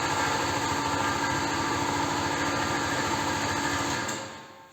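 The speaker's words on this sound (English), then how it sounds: "Again, compressor, shut up." An air compressor runs steadily in a workshop, a loud continuous mechanical hum and drone that cuts off abruptly near the end, no talking.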